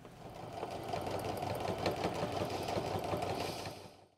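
Close by, a sewing machine straight-stitches along a pants facing in one continuous run, a rapid, even needle chatter that winds down and stops at the end.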